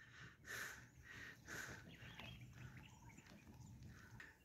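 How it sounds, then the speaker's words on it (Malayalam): Birds chirp in a forest on a mountain trail in a wildlife sanctuary, a few short, faint tweets repeating at roughly one-second intervals over a quiet outdoor background. "മൊത്തം ഇങ്ങനെ കിളികളുടെ ശബ്ദമാണ്."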